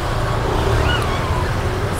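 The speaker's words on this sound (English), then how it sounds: "So many cars, scooters." Night street traffic in Ubud, Bali: cars and scooters pass close by in a continuous busy roadway wash, with a brief engine whine rising over the steady rumble.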